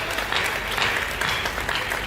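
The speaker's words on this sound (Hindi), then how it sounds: "एक बार जोरदार तालियां बजाइए आप" A live audience at a Hindi comedy show claps in a dense, steady burst of applause that holds throughout, with no voices on top.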